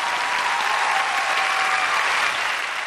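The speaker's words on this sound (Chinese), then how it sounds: "让我们掌声有请马先生" A studio audience applauds as a guest is welcomed onto a talk show, dense even clapping sustained loudly throughout without voices.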